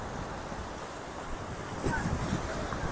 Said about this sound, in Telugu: ఇక్కడ మట్టికి అలలు చాలా గట్టిగా వస్తున్నాయి